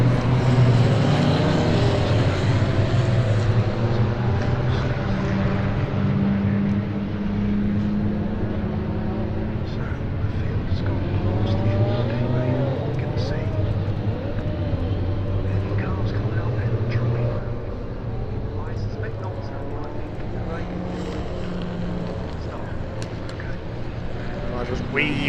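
Race cars weave along the track at Silverstone to warm their slick tyres, a steady engine drone heard from a distance throughout, with a commentator talking over it.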